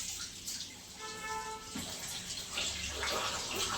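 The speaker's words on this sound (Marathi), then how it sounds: "टाकीतून कोमट कोमट पाणी येते." Warm water runs from a household tank into a bath, making a steady splashing wash that continues throughout. Faint tonal sounds drift in midway.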